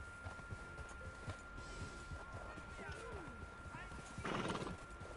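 Horse whinnying in the Red Dead Online video game, a clear neigh rising near the end over steady clip-clop hoofbeats and busy ambient game background, with a voice talking in the mix.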